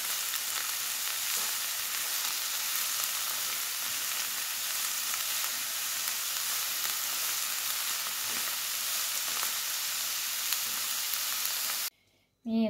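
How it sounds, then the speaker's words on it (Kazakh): Cabbage frying lightly in oil in a pan for Kazakh pigodi filling makes a continuous, even sizzle that holds steady for most of the clip, then drops out abruptly near the end before a short burst of other sound. "Шамалы аздап қуырып аламыз."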